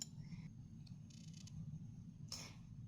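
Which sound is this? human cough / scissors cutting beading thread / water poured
scissors cutting beading thread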